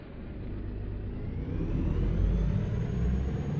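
A Peterbilt 350 truck engine in American Truck Simulator drones with a low, heavy rumble that builds steadily as it gains revs, a rising whine faintly layered above the deep, continuous engine tone.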